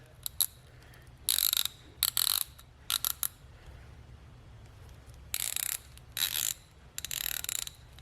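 Blue Point quarter-inch ratchet with a quick-release head, clicking in several quick bursts of sharp pawl ticks separated by short pauses, close and clear with no talking.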